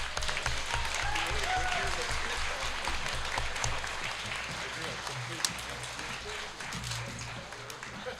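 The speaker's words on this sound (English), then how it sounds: "And a round of applause once again." A round of applause for council candidates at a municipal all-candidates meeting, the room clapping in a steady, moderately loud roll while voices talk underneath.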